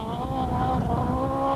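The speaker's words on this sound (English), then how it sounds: "More race cam action from the Thunderbolt Harding car" The Thunderbolt Harding rally car, heard from an onboard race camera on a special stage, its engine droning close and loud with a sustained, slightly wavering tone and rough road noise underneath.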